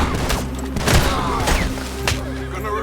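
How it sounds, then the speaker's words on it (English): Shotgun blasts ring out in Red Dead Redemption 2 as several loud booming shots at irregular intervals, with a horse whinnying and other game sounds in between. "this guy, this piece of work, just started unloading on the baby gator with his shotgun"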